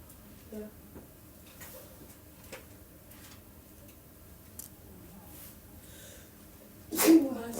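A person sneezes once, loud and sudden near the end, after a stretch of quiet room noise with faint scattered clicks and small sounds.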